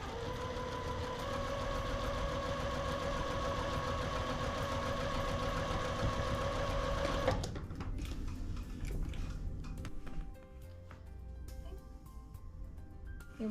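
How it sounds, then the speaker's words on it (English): A sewing machine stitches quilt fabric along a drawn line, humming steadily and close for about seven seconds, then stops, leaving faint handling noises. "We'll sew right on the drawn line."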